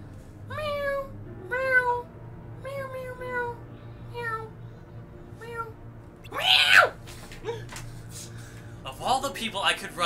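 A person's voice imitating a cat, giving a series of short rising meows in a row, near and clear, followed by louder shrieking vocal sounds and other talking.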